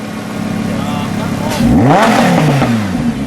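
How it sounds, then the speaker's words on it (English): A black 2017 Lamborghini Huracan with its V10 engine idles with a deep rumble before a sharp rev climbs and falls back, loud and close in a garage, with someone talking over it. "Now let's give it a little rev in street first."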